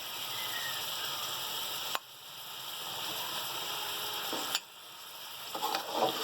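Mixed vegetables frying in oil with spices for sabzi pulao give off a steady, moderate sizzle, broken by two sharp stirring knocks and a few scraping clatters near the end; nobody speaks.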